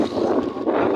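Wind and rain buffeting a microphone while riding a motorbike through misty, rainy weather, a dense continuous rushing roar that fills the whole moment without any speech.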